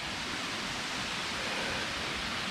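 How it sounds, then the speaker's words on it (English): Water rushes steadily at Huay Kaew Waterfall in Chiang Mai, a dense, unbroken roar heard up close with no voices. "You get a real beautiful view of the waterfall."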